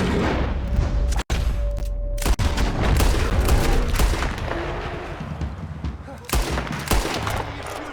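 Rapid bursts of rifle and pistol fire crack in Red Dead Redemption 2, loud close shots in quick volleys with sharp booming reports, while characters shout over the fight.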